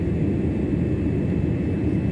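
A passenger airplane on approach to Bali's airport gives off a steady, loud, low engine roar that holds constant throughout, with no voices.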